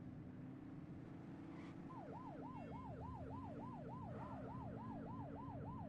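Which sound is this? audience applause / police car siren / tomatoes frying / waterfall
police car siren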